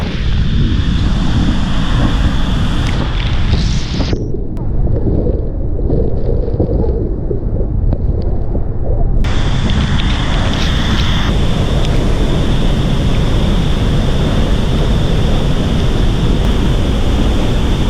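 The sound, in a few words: waterfall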